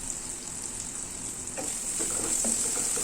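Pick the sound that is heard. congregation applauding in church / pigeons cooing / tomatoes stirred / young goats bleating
tomatoes stirred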